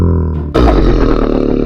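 A stunned Minecraft Ravager gives a low, drawn-out tonal groan, then breaks into a louder, harsher, sustained growl with a rough, pulsing texture.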